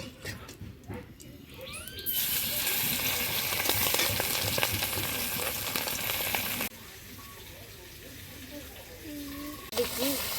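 A fish head sizzles and spits loudly in hot oil in a pan after cumin is fried, a steady broadband crackle that drops to a quieter sizzle partway through, with someone talking over it.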